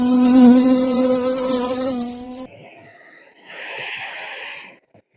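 Honeybees buzz close by near their hives while foraging on almond trees in Rians: a loud, droning hum at first, then a thinner, higher-pitched buzz that fades out.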